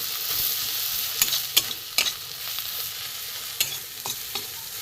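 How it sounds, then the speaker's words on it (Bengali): Mixed vegetables with grated ginger, salt and turmeric stir-fried in a pan for a fish curry, a steady broadband sizzle with several sharp scraping strokes of a spatula at irregular intervals, close and moderately loud, no talking. "একটু কষিয়ে নিই, সবজিটা একটু কষিয়ে নিই, তারপরে দেখাচ্ছি।"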